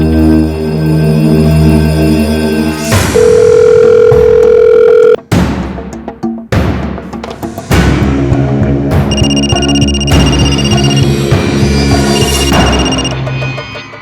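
A telephone rings on and on with nobody picking up, its loud electronic tones repeating in a steady, close pattern amid a dense, busy backdrop.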